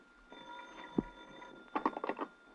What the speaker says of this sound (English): the phone was ringing in my hotel room when I got there